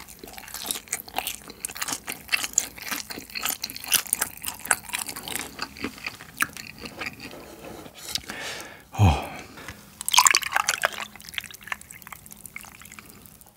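Close, crunchy chewing of delivered sweet and sour fried shrimp that has turned slightly soggy and chewy, with irregular bites and mouth sounds running steadily, and a louder burst of crunching near the end.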